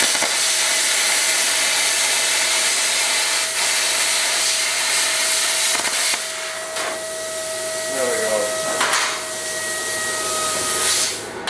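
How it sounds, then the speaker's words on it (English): A plasma cutter slices through metal in a steady, loud rushing hiss of air and arc, with a few clicks and brief tonal whines partway through, close and unbroken over the full stretch in an off-grid workshop. "I'm going to flip it round now and cut the other way."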